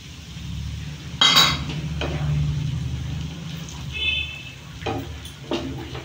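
A spoon stirs cashew paste with ground coriander and spices in a pan for a yogurt chicken curry: a few sharp metallic scrapes and clinks against the pan over a low steady hum, close and intermittent.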